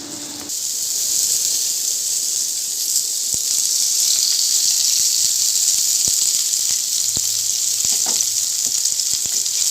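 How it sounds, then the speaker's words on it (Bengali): Pabda fish frying in a frying pan, a loud, steady oily sizzle that fills the whole stretch, with a few faint clicks and knocks of utensils and no talking. "পাবদা মাছটা আমি আগে থেকে একটু ভেজে নিচ্ছি"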